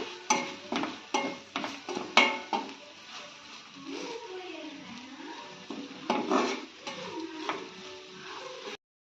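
Capsicum fried with ground spice powder in a pan for a quick bachelor-style fry: a run of rapid, sharp spatula clatters against the pan, then softer stirring and sizzle with a faint tonal hum underneath.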